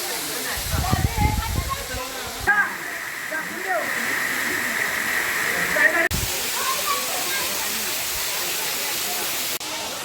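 Rautwadi waterfall near Kolhapur, a steady broadband rush of falling water that fills the scene from start to finish, with a few louder low bursts early on that may be wind or handling.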